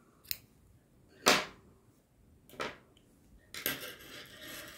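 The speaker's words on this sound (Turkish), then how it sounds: "Buradan bir tane zincir çekerek ipimi buradan kesiyorum." Scissors snip crochet yarn for a baby sweater in a few sharp, quiet cuts spaced apart, the last followed by light rustling, with no voices.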